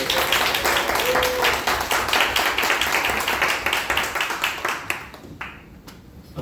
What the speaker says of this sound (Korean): 우리 박수를 한 번 더 주세요.